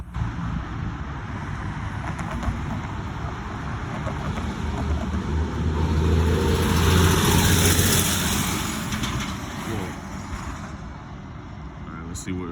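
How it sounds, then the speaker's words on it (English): A red bus approaches along a Cincinnati street, its engine rumble swelling steadily to a peak at mid-clip and then easing off, with constant traffic noise and a voice talking over it. "See the red bus coming."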